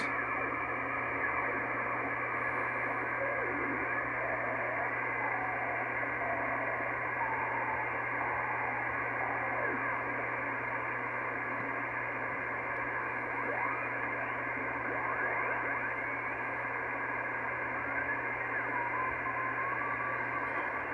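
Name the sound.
amateur satellite beacon on radio receiver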